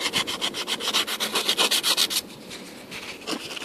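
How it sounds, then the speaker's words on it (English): Wet rub is worked back and forth over a motorized bike engine case during crankshaft seal replacement, giving a close, rhythmic abrasive scrubbing with quick regular strokes that fade into lighter rubbing. "that will clean up with some wet rub"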